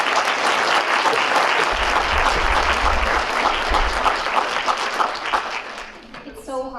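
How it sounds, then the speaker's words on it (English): An audience applauds a poetry recitation at a Poetry Out Loud event, sustained clapping from a room of peers, parents and family that fades near the end as a voice begins speaking. "let's give another round of applause for Catherine"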